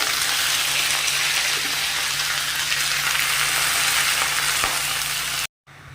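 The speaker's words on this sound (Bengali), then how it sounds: "এখানে সবজিগুলো ভাজা হয়ে গেছে" Vegetables fry in a pan with a loud, continuous sizzle and crackle, close up and unbroken. The sound cuts out briefly near the end, and no one speaks.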